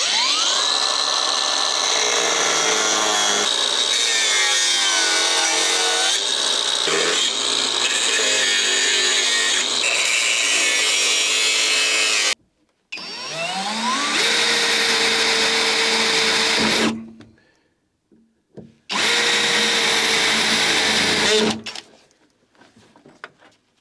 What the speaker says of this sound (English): Firstly, I'm going to cut down, and then I'm going to go into the trunk and try to drill out all the spot welds.